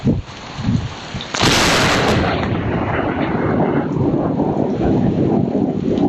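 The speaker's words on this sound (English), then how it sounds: "This security camera caught this police car getting struck by lightning." Lightning strikes a police car on a security camera: low rumbling noise, then a sudden loud full-band crack at about 1.5 s that settles into a sustained, roaring thunder-like wash.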